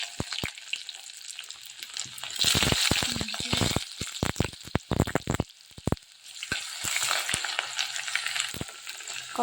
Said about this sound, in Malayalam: ചൂടായി കിടക്കുന്നതുകൊണ്ട് തന്നെ പെട്ടെന്ന് കടുക് പൊട്ടിക്കോളൂ